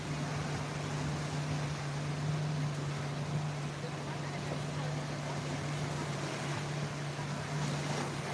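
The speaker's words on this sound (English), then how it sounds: "Fishing boats are racing." Fishing boats racing on the sea off Scotland, a steady low engine drone carrying through continuous wind and surf noise, distant and unbroken for the whole stretch.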